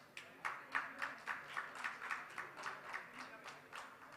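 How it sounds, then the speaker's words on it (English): Faint, evenly paced clapping from an audience at a plastics export excellence awards event, individual claps pulsing in a steady rhythm about three times a second with no voices over it. "A wide round of applause and thanks to all the prominent exporters who made today's event in many ways a huge success."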